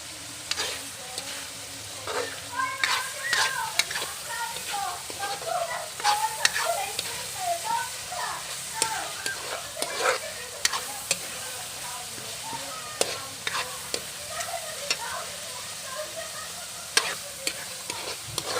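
Balaw (fermented shrimp paste) cooking with meat and bitter gourd in a pan, giving a steady close sizzle throughout with frequent scraping and clicking stirring strokes, and no talking.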